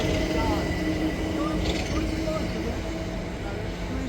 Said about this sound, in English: There's a train approaching this side.